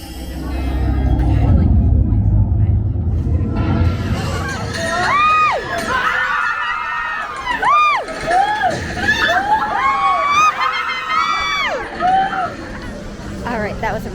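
Excited riders shout, whoop and cheer in a loud, overlapping crowd hubbub on the Tower of Terror drop ride at a Disney park, with rising screams and yells filling the whole stretch over a low rumble.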